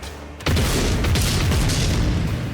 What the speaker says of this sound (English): You wasted a stun grenade.